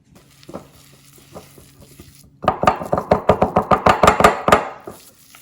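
Room-temperature ghee and sugar are beaten together in a bowl: a quiet stretch, then about a dozen quick, evenly spaced scraping strokes up close, with no talking.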